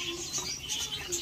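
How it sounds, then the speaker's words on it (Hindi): Pigeons feeding on grain in a cage, birds jostling and climbing over each other, with soft chirps, scuffles and pattering wings going on continuously and fairly close. "और झगड़ा कर रहे हैं दाना खाने के लिए थोड़े एकमेक के आंख पे चढ़ते हुए कबूतर अपने"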